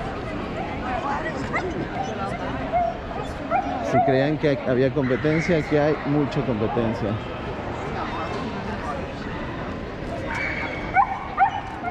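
Beagles at a dog show barking, yipping and whimpering in a busy indoor hall, the dog calls repeated in bursts beneath someone speaking and a background babble of crowd voices.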